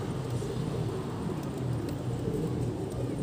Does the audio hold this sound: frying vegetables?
no